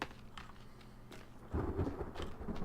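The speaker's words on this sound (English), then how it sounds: "Alright, we got some rain." Rain and rolling thunder in the survival game The Forest, a steady patter that swells into a louder, rumbling stretch partway through, with no voices over it.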